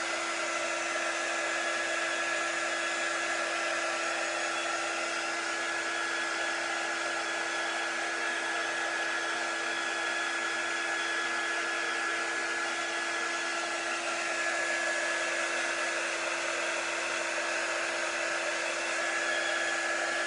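A hair dryer blows steadily to dry paint and tea on a chalk art piece, a loud, close, unbroken whooshing hum that holds level for the whole stretch with no talk.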